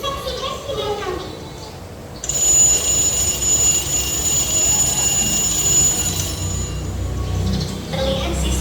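A shrill electronic alarm clock rings steadily for several seconds in a bedroom scene, loud and continuous before cutting off, with ambient noise around it.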